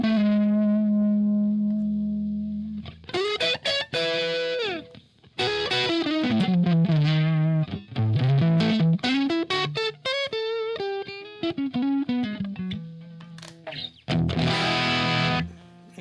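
Electric guitar through a Marquee Club amp, a thick, distorted tone with effects: a sustained chord, then bursts of fast picked riffs and bends, loud and close, with short gaps between phrases.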